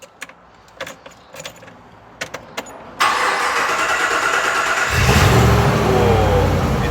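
Keys jangle in a few sharp bursts, then a Twisted Land Rover Defender's 6.2 litre V8 cranks and fires, settling into a loud close idle before a deeper rev swell.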